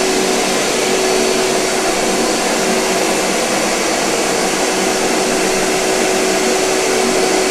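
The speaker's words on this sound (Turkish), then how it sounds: "robotumu çalıştırıyorum. Ardından bakın buradaki düğmeye basarak şuradaki işi yapıyorum ve su motorunu çalıştırıyorum" An Ihlas Aura CleanMax carpet-washing cleaning robot runs with its water motor on, giving a steady, loud, continuous motor whine and broadband suction-like roar with a fixed tone, unchanging throughout and with no talking.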